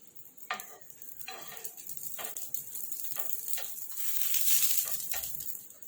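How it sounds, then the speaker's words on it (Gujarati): Steady sizzle of kacchi dabeli roasting in a pan over low flame, with a few light scraping taps from a spatula, close and continuous. "દાબેલી મૂકી દઈશું આપણે અને ધીમા તાપે શેકીશું એને"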